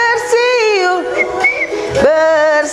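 Whistled notes rise and glide in a lilting tune, loud and near, joined by singing voices in a group song about whistling.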